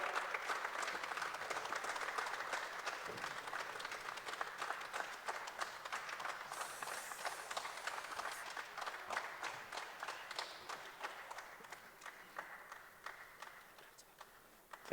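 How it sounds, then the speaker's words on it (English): An audience at a district address claps steadily as a speaker ascends the stage, sustained applause that slowly thins and fades toward the end, with some footsteps mixed in. "accompany him as he ascends the stage with a big clap of hands till he reaches the podium"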